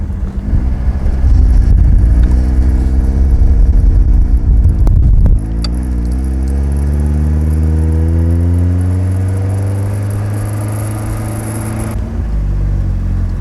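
An Alfa Romeo Spider Veloce classic car cruising on a sunny day, its engine droning loud and steady from inside the cabin. Revs rise and fall through gear changes, with wind and road noise around it.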